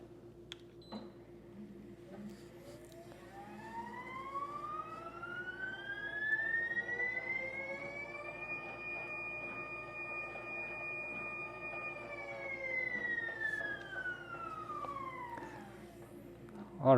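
A motorized 360 photo booth platform spins through one full revolution, its motor giving a steady whine that rises, holds level, then falls over about seventeen seconds, with a constant low hum underneath and no talking.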